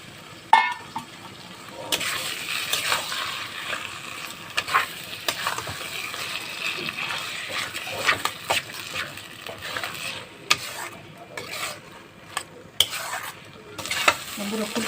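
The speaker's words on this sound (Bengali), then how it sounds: "এবার এটাকে একটু নেড়ে চেড়ে নেব।" A spoon stirs a paste of boiled, ground cauliflower leaves and stalks with garlic as it fries in a pan, giving continuous sizzling with repeated scraping and clinking strokes, close and fairly loud, with no talking.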